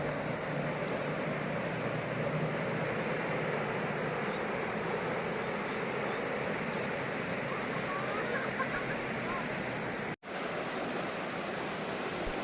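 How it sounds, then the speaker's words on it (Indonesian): A fast-flowing river rushes steadily beside a campsite in Namu Hejo, Pangalengan, Bandung, a continuous loud broadband roar that holds throughout with a brief dropout near the end. "Kedengeran kan guys suara sungainya deras banget guys."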